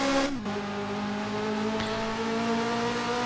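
Ferrari F355 racing car in the Dreamcast game F355 Challenge, a steady, loud engine drone holding a constant pitch throughout after a brief dip early on, alone with no talk.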